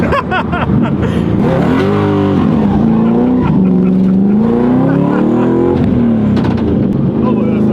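Scion FR-S doing a fourth-gear burnout, engine revving hard with rising and falling pitch and tyres spinning, loud and close throughout, with people talking over it.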